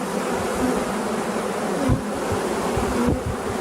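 Honeybees fanning their wings at an opened hive during a brood transfer make a dense, steady close-up buzz that fills the whole stretch, with a faint higher whine surging briefly now and then.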